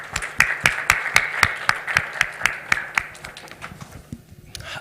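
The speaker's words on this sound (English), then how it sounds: "Round of applause for the Open Passport team" Audience members at a technology conference classroom session clap in a fairly sparse, sharp, evenly paced burst of individual claps that thins out and stops after about four seconds.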